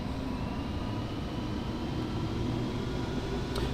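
Steady, loud engine roar of an aircraft in Microsoft Flight Simulator X throttling up on the runway for takeoff with flaps down, a continuous low rumble holding level throughout with no talk.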